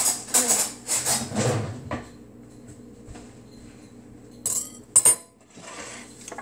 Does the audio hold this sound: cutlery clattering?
yes